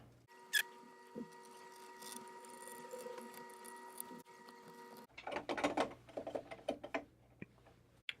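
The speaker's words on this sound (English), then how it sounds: "And replace the 6 screws." Six screws are driven back into the faceplate of a Rane Seventy-Two DJ mixer by hand, making faint clicks and small metallic scrapes in a quiet room, with a busier cluster of rattling ticks toward the end.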